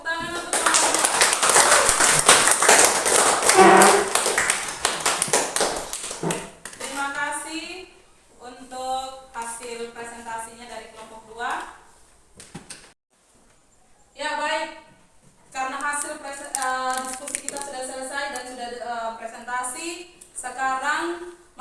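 A classroom of students in a biology lesson claps together for several seconds, loud and dense, then dies away into a teacher speaking.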